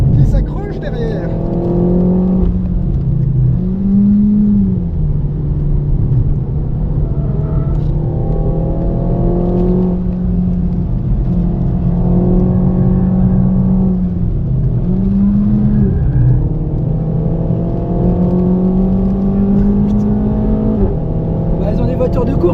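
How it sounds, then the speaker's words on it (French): Race cars circling the Val de Vienne circuit during a passenger ride, a steady loud engine drone with rising and falling revs running the whole time, while people chat in French over it. "ils ont des voitures de course hein, les deux derrière"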